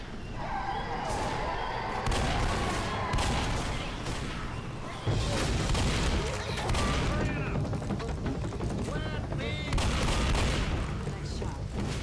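Gunfire from the Left 4 Dead zombie shooter, dense bursts of rapid shots and booms running continuously and loudly across the whole stretch, with voices talking over the shooting.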